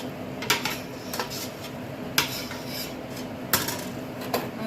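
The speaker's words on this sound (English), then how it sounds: "Alright, we're going to give that a stir." A spoon stirs gumbo in a pot, giving scattered scraping clinks against the metal, a few sharper taps standing out over a steady low kitchen hum, with no talking.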